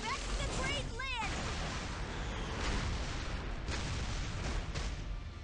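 Dense battle noise from Epic Seven, covering gunfire as a continuous rumbling roar with booming hits, while character voices call out over the fighting.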